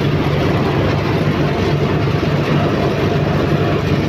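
An Arjun tractor pulling a harrow while ploughing a field drones loudly and close, a dense, unbroken low engine rumble that holds steady throughout.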